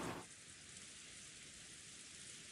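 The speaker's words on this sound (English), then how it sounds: "In the Golden Land, the gray rain can gently continue to fall." Gentle gray rain falling steadily in a quiet, soft hiss, a continuous ambient backdrop with no voices, following a brief louder burst at the start.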